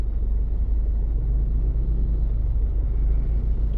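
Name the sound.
road traffic noise from cars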